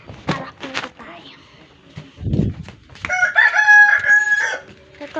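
A rooster crows one long drawn-out call, fairly close and loud, after a few short clucks and a bit of nearby speech in Filipino, at a house with chickens and chicks.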